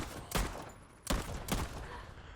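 Revolver fired in the video game Gravemark, three separate sharp loud shots spaced about half a second to a second apart, each with a short echoing tail, no talking.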